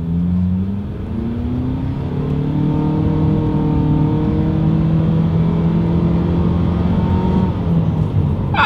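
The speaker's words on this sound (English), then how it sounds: "let's go ahead and actually see what the acceleration feels like here in the Outlander Sport" A Mitsubishi Outlander Sport accelerates hard on a straightaway, its engine note rising steadily through the gears as a loud, continuous drone heard from inside the cabin, with no talk.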